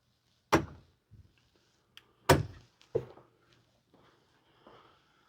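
An RV trailer's baggage door with slam lock latches shuts on an overland camper, giving a sharp slam, then a second heavier slam and a quicker latch thunk, with faint handling noises between.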